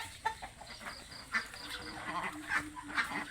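Ducks quack in scattered, uneven calls at moderate distance over a soft, steady background hiss.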